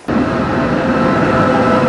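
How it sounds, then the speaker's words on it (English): A train running along the Cinque Terre coastal line, heard as a loud, steady rumble and rush that holds without a break. "Second train of the day."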